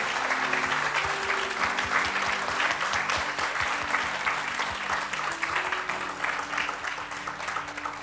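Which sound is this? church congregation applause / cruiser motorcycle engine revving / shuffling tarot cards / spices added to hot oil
church congregation applause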